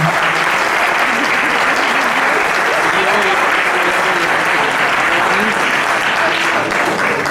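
A crowd applauds at an award ceremony in Nava, Asturias, with dense, loud, continuous clapping that holds steady throughout without letting up.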